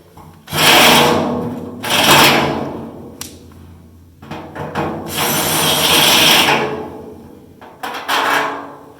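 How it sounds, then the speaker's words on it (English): A power drill bores out a hole with a step bit in short loud bursts, several spaced whirring runs with pauses between. "now I've got the right step bit, smaller point on it so it'll fit in that hole"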